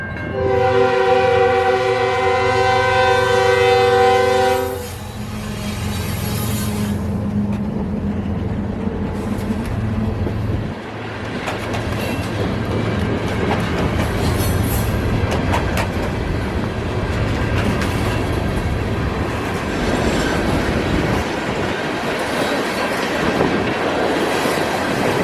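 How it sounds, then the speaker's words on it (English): A coal train led by a GE Evolution locomotive sounds a loud, sustained horn blast, then rolls past with a continuous rumble and clickety-clack of wagons for a long stretch. "That wouldn't be the only coal train we see."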